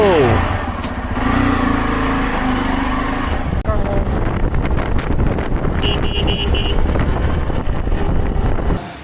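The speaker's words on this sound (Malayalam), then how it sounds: "സോ അപ്പം നമുക്ക് ബൈക്കിൽ പോയിട്ട് വരാം" A motorcycle engine rumbles and revs continuously up close, with wind buffeting the microphone as the bike rides along and a brief horn toot partway through.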